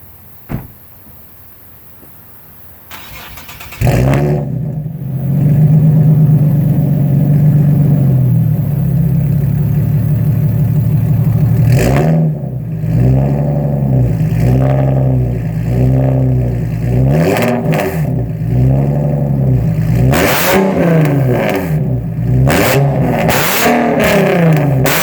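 A modified 2009 Nissan 370Z with a 3.7L V6 starts up, then its exhaust roars loudly through a long idle and a series of sharp revs that rise and fall.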